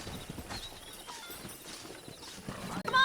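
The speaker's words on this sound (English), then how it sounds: "That ranch hand said there's a pack of wild horses nearby." Wild horses gallop and whinny in Red Dead Redemption, a steady drumming of hooves close by with a sharp, high neigh rising near the end.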